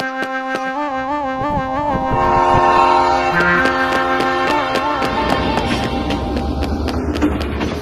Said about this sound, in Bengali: চলো চলো, ট্রেন এসে গেছে।